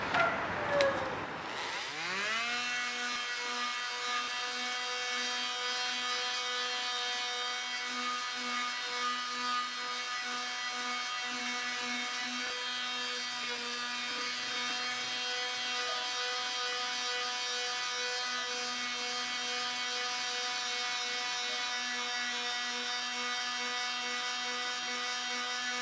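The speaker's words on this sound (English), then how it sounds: "I'm going to sand this part right here so you can see how this thing would work" A power sanding tool spins up and then whines in a steady, sustained tone while working on a metal vent register, continuous and fairly close.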